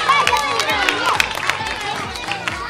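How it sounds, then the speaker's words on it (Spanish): A group of children clapping and cheering in a lively burst at a children's crafts camp, with excited voices and scattered shouts over the clapping. "¡Un aplauso para Leo León!"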